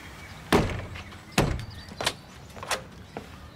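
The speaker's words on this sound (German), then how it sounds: "Sie wollen doch sicher nicht Ihre eigene Tür eintreten." A man kicks at a house door: four or five heavy, separate thuds at irregular intervals, the first two loudest and close, the later ones lighter, with no talk over them.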